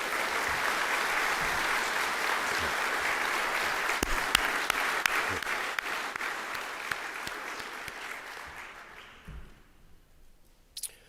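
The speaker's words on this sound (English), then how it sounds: "would you please stand so we can show our gratitude for your leadership with a round of applause" Audience applause for board members at a chairman's address, a sustained full round of clapping from a crowd that holds steady for several seconds, then thins out and fades near the end.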